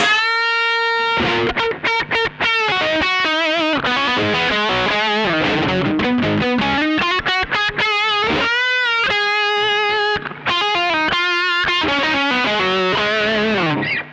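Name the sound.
electric guitar lead with overdrive and distortion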